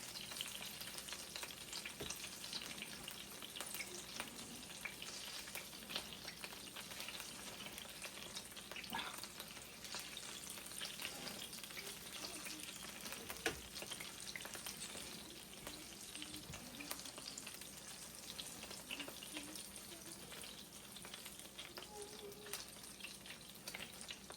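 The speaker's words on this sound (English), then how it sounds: "Just throw it in the pan for a second here." Pieces of burger bread toasting in a frying pan on a stove, making a faint but steady, even sizzle that runs unbroken throughout with no one talking.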